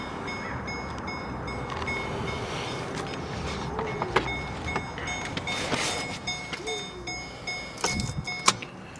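A set of three factory keys for a 2013 Chevy Caprice PPV jangles close by in intermittent metallic clinks and rattles over a low background rumble.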